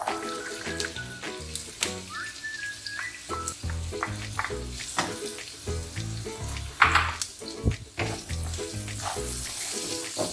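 Carrot and cabbage for a vegetarian shepherd's pie sizzle and fry in a pan on high flame, with repeated clattering stirs and scrapes over a continuous crackling hiss.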